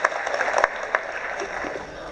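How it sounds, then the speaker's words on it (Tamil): Audience applause at the Kirumi film audio launch, a dense wash of many hands clapping steadily with a few sharper claps standing out, holding at an even level throughout. "கைதட்டி அவரை வாழ்த்துங்கள்."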